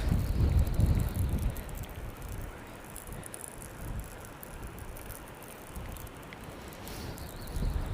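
Wind gusts at an urban sea-fishing spot on the River Tyne in Newcastle, rumbling and buffeting steadily against the microphone, strongest at the start and end.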